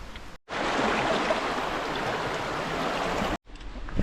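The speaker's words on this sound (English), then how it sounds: "we got the creek and a little walking path over here" Creek beside a campsite near a famous Alaska hot springs, a loud continuous rush of flowing water filling about three seconds, framed by brief cuts and quieter outdoor ambience.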